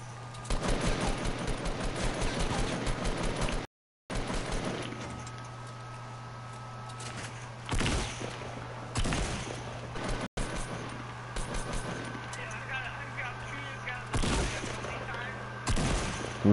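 Shotgun and assault rifle fire in the Fortnite video game: bursts of rapid gunfire and single heavy blasts, loud and dense, cut by brief pauses, with a steady low hum underneath throughout.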